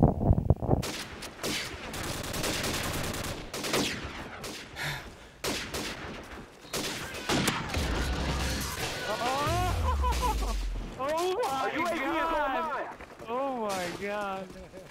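Rapid video-game gunfire bursts mixed with game sound effects and music, loud and dense, with a player voice talking over parts of it.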